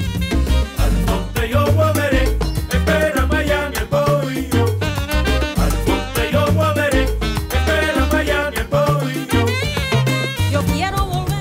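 Cuban salsa song in its refrain, running eight measures, with full band instrumentation driving a steady, punchy rhythm at a loud, even level.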